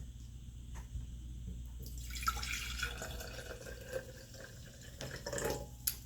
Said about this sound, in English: First, you want to pour 1/4 of this of water.